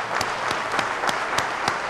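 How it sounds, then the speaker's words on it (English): Sustained applause from a banquet audience honouring a Tampa Fire Rescue crew at a 2011 awards event, a dense steady patter of many hands clapping with a few louder individual claps, and no talking. "Can't give them a round of applause"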